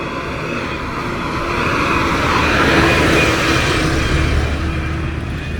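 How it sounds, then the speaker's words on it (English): Steady engine rumble of trucks working along a rural road in Guyana, heard as a continuous broadband drone that swells slightly in the middle and stays moderately loud throughout. "Some of the trucks still doing work here."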